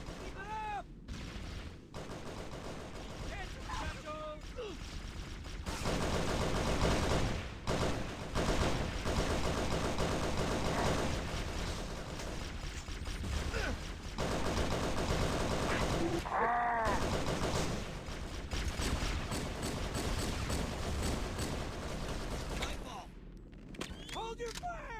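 Sustained battle gunfire in the shooter Halo SPV3, dense rattling automatic fire and shots running throughout with shouted voices cutting in now and then.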